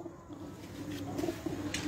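Soft repeated cooing from racing pigeons at a rooftop loft in Mianwali, moderately close, over a low ambient hum with faint background noise.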